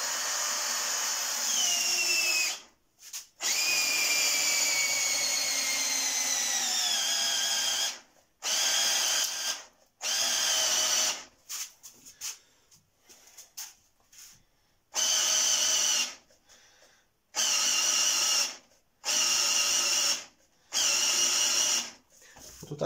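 Parkside cordless drill driver driving a wood screw, running in repeated loud bursts with rising and falling motor whine, separated by short pauses as the screw is worked in, close by with no talk.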